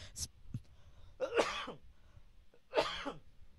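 Two separate coughs, close and fairly loud, with a short throat-clearing sound before them and quiet pauses in between.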